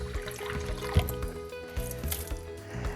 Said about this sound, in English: I have to put some water in.